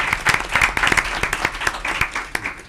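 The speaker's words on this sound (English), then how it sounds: "So give them a round of applause" Audience at a county school board meeting claps in a brief, dense burst of applause, many hands close and loud, with irregular sharp claps throughout.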